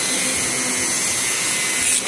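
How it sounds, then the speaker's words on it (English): Dremel rotary tool grinding a diamond pattern, a loud continuous high-pitched whine held steady throughout the short stretch, close to the microphone with no talk. "Gotta drop the Dremel."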